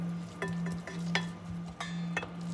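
Grated vegetables frying in a pan, stirred with a utensil: a steady sizzle under repeated scraping strokes and light clinks against the pan, close and alone without talk.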